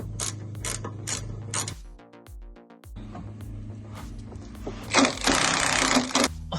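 A ratchet, likely powered, tightens a sway bar link nut on a 2004 Chevy Avalanche, with loud rapid mechanical clicking and whirring in bursts, a short pause, then a harsher sustained grinding rattle, close up.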